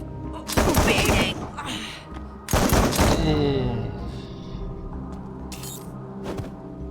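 Bursts of gunfire from the video game Wasteland 3 come in two loud volleys with ringing tails and a few lighter shots after, playing alone with no talk.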